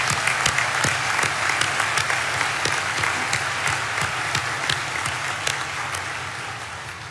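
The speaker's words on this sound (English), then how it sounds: "Let's have a round of applause for all 4," Audience applause at a Dakota State University graduation ceremony, a dense, steady clatter of many hands clapping that fills the hall and tapers slightly toward the end.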